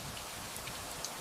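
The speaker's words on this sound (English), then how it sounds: "Thunder rolls across the horizon, and the heavy rain begins to fall." Heavy rain falls in a steady, dense hiss, an even wash of noise with a few faint drop ticks on top.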